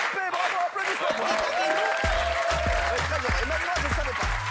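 On a French TV talk show, a studio audience breaks into applause, a broad wash of clapping under a speaking voice, with music thumping in rhythmic pulses partway through.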